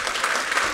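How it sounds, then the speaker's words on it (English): An audience claps for an author in residence at an ABC News Lunch event, a brief burst of dense, even applause, loud and close. "another round of applause to the author in residence here"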